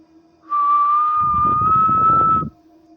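A single sustained whistle, steady and slightly rising in pitch, lasts about two seconds in a tense horror tale set among forest trees, with a low rumbling noise swelling beneath its second half before both cut off together.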